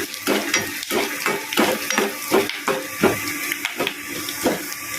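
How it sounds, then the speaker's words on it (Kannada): Peanuts frying in a pan for mango chitranna, with a steady sizzle broken by rhythmic scraping and clattering strokes as they are stirred, close and fairly loud, without talking. "ಕಡಲೆ ಬೀಜ ಎಲ್ಲ ನೋಡಿ ಫ್ರೈ ಮಾಡ್ಕೊಳ್ಳಿ."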